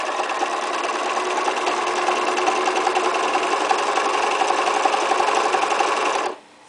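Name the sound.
sewing machine straight stitching appliqué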